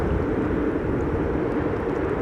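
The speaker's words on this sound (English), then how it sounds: "22 in the background." An aircraft arriving on runway 22 at Amsterdam Schiphol Airport rumbles in the distance, a low, continuous roar of jet engines blended with windy storm background noise.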